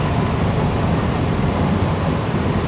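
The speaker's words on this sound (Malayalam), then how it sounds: "നല്ല ഫ്ലാറ്റ് വീൽ ഉണ്ട്." Chennai air-conditioned EMU slow local train running on a flat wheel, heard from inside as a loud, continuous low rumble and rattle of wheels on track.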